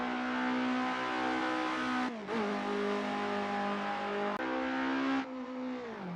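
Engine of a Formula Renault 1.6-litre prototype race car, loud and steady at high revs with a sharp shift-like dip near two seconds and another drop near five seconds, sounding close throughout.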